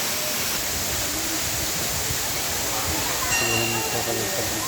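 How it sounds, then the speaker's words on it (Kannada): Dam-released water rushes downstream toward the Malaprabha river as a steady, dense roar that fills the whole span, with a voice briefly surfacing near the end. "ಮೇಲ್ಗಡೆ ಬಿಡ್ತಕ್ಕಂಥ ನೀರು ಹರ್ಕೊಂಡು ಕೆಳಗಡೆ ಹೋಗ್ತಾ ಇರುತ್ತೆ."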